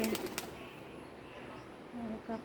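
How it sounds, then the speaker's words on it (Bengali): A few soft pigeon coos sound near the end after a brief flutter of wings, over a quiet outdoor background. "কবুতর"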